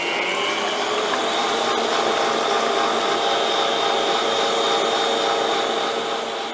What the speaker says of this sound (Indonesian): Kita mixer dulu. Menggunakan full speed kurang lebih 30 detik.